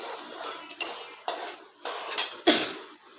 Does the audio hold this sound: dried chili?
yes